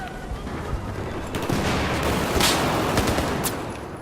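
Battlefield 4 video game gunfire, rapid bursts of automatic weapon shots with overlapping distant and near cracks, steady and dense throughout the few seconds.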